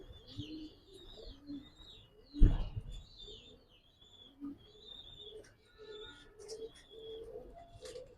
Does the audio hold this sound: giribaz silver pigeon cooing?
yes